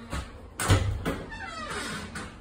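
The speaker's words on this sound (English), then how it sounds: "Let me open this door to get some light." A trailer door slides or swings open with a short bump and scraping rattle, followed by faint creaking movement in a quiet space.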